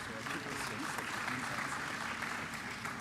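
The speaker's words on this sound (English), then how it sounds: "a round of applause to our panel" Conference audience applauding a panel at the close of a session, a faint, distant, continuous patter of clapping with talk running beneath it.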